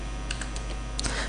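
Computer keyboard typing while entering a package name into a Plone build-out configuration file, a few light clicks spaced apart with a brief cluster near the end, close and quiet with no talk.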